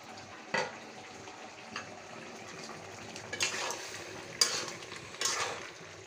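Potatoes fry in a covered pan on a clay stove, a low steady sizzle with occasional louder scraping stirs and clatters close by.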